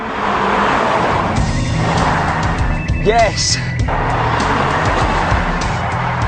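Mercedes CLS 350 CDI with a V6 diesel accelerating, a continuous loud engine roar with a brief tire squeal partway through, while someone cheers over it.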